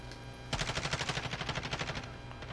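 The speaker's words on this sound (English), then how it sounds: "Taking heavy fire" Heavy automatic gunfire from a video game, a rapid burst of loud, evenly spaced shots that starts abruptly after a brief quiet, runs steadily for about a second and a half, then trails off into lighter shots.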